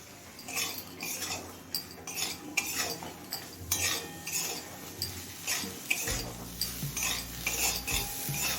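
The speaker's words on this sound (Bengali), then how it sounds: "বেগুনটা দিয়ে আরও তিন চার মিনিট ভেজে নিলাম" Eggplant pieces fry with cauliflower stalks, turmeric and salt in a pan, busy metal spatula scrapes and clinks repeating steadily over a light sizzle, close and clear.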